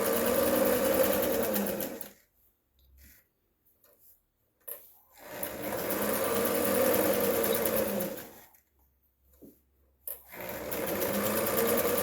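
Domestic sewing machine stitching in two long bursts separated by near-silent pauses while the fabric is turned, steady motor whir close and loud, no talk.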